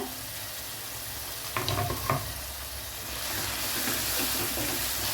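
Tomatoes dropped into masala paste frying in a pan for Kashmiri chicken gravy bring a couple of sharp bursts of sizzling and clatter, then a steady, close frying hiss with no talking.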